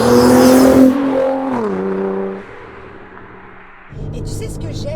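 A Nissan GT-R R35 with nearly 700 horsepower accelerates on a rain-soaked road. The engine roars loudly from close by, its pitch dropping through a shift, falls to a quieter drone, then swells again, with voices talking over it.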